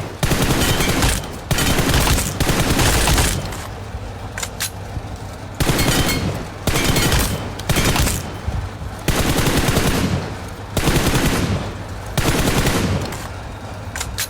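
Sustained bursts of automatic gunfire in the mobile battle royale game PUBG Mobile, coming in repeated loud volleys with short gaps between them and no talking.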